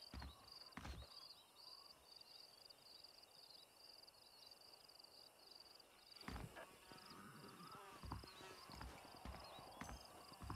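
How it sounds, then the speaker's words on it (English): Horses move across open country in the Red Dead Redemption video game, soft repeated hoof clops and an occasional whinny over a constant insect chirr, faint and distant with a few louder thumps later. "Don't you lay a finger on them horses, mister."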